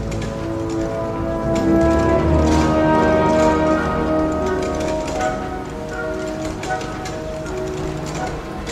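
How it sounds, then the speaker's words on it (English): Steady rain falling in the video game Forgotton Anne, a dense continuous patter with fine ticking drops, loud and even throughout with no talking. "Rain. Always rain."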